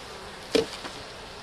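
A single brief bee buzz passes close by during a beehive inspection, a quick swell that fades within a moment against a quiet background.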